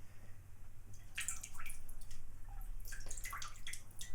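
Lukewarm water dripping and splashing softly during a relaxing face-painting session, a close series of small irregular drips and trickles against a quiet low hum.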